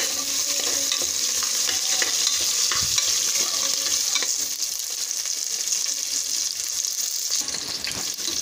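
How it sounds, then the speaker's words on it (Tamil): Small shallots and large onions are sautéed in oil over a medium flame for a kalani kuzhambu. A steady sizzle goes on throughout, with soft stirring scrapes and a brief knock near the middle. Nobody speaks. "மீடியம் ஃப்ளேமில் வச்சு வதக்குங்க"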